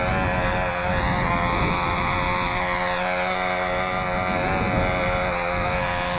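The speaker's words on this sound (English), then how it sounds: "I think I got the engine run just right. And it's maintaining that run through the tank" A control line model aircraft engine on a Sig Skyray drones continuously at high pitch, a steady buzzing whine whose tone sways slightly as the plane circles.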